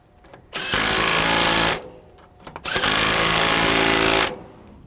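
A power tool drives bolts to fasten a sensor onto a 40-foot John Deere 600D combine header. It runs in two loud, steady bursts of about one and two seconds, with quiet handling noise between them.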